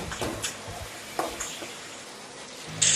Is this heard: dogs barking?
no